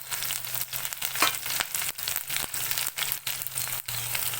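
Garlic and curry leaves fry in oil for an onion-tomato thokku, a loud close crackle and sizzle interrupted by repeated stirring scrapes and brief rustling pauses, with no talk.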